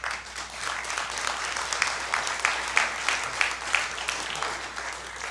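Steady applause from a symposium audience, a sustained patter of many hands clapping at moderate volume, with no voices rising above it.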